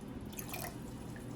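Water poured from a can into a pot of Spanish beans in tomato sauce, a steady close trickle and splash with dripping.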